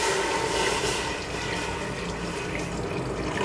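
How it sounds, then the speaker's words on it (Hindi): Water poured steadily into a cooking pot while making karela gosht, a bitter gourd and meat curry, giving a continuous close splashing wash with no voices. "तो पानी हमने तकरीबन 2 गिलास के करीब ऐड करना है।"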